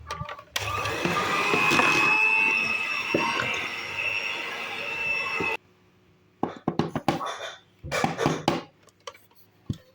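An electric mixer whirs through butter cake batter in a steady, loud drone for about five seconds and then cuts off. Short clattering handling sounds follow.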